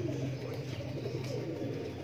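Niazi breed pigeons coo in low, continuous throaty murmurs, several birds overlapping at close range with steady loudness and no talking.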